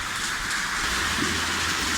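Rain pours steadily outside a woodworking shop, a constant, broad hiss of drops on surfaces that stays even throughout with no talk over it.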